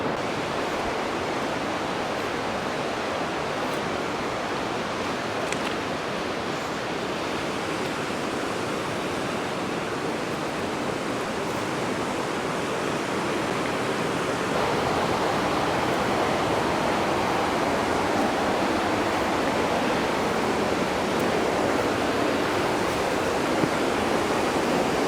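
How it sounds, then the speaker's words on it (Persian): The Haraz river rushes in a steady, loud, roaring torrent beside a riverside rock relief in Iran, a dense, unbroken wash of water noise throughout with no voices. "کنار رودخونه خروشان هراز."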